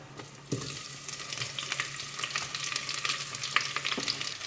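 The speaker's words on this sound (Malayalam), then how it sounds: "ഇനി ഇതിലേക്ക് സവാളയും പച്ചമുളകും ഇഞ്ചിയും വെളുത്തുള്ളി അരിഞ്ഞത് ചേർത്ത് കൊടുക്കുക." Chopped onion, green chilli, ginger and garlic hit hot oil in a pan after a brief quiet start, then fry with a steady, close, crackling sizzle; no talking.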